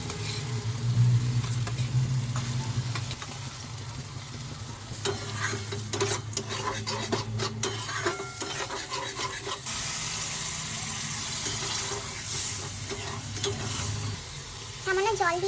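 Masala frying in oil hisses steadily while sour yogurt is stirred in, with spoon scrapes and clatter, a wetter bubbling patter in the later part, and close, continuous sizzling.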